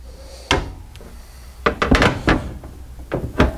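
Large pots and pans drawer in the kitchen of a 2015 Forest River Catalyst 40WTS toy hauler RV, giving several close wooden thunks and knocks as it slides and shuts, spaced irregularly with quiet gaps between.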